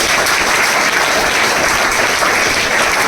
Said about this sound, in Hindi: आगे ताली बजा दो।